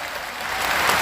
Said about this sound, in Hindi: जोरदार ताली बजा करके सब लोग